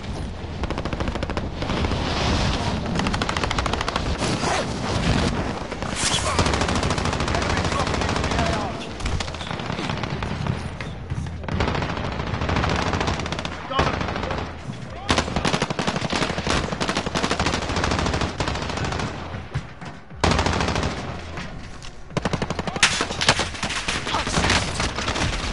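Sustained game gunfire from Warzone Plunder mode: dense machine-gun bursts and rapid shots rattling almost continuously, loud and close, with brief lulls and some voice underneath.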